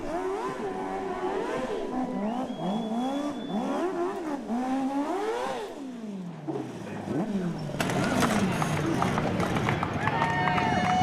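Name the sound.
race car doing donuts in the infield after a win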